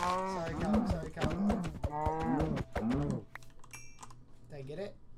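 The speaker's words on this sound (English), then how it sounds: "Get back here, stupid cow." Minecraft cow lowing in several drawn-out moos, fairly close, mixed with rapid computer keyboard clatter from gameplay and a voice talking over it.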